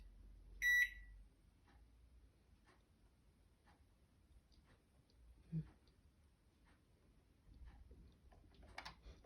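A microwave oven heating sticky rice: a bright electronic beep at the start, then a quiet low hum with faint ticks and clicks, and another soft thump midway.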